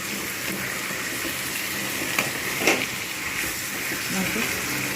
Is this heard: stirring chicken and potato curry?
yes